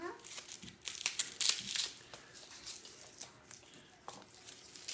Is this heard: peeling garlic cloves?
yes